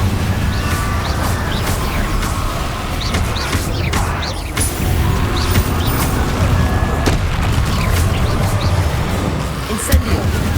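Incendio fire spells cast repeatedly in Hogwarts Legacy, a constant roar of magical blasts and crackling bursts with sharp impacts scattered throughout, loud and busy, with a voice speaking underneath.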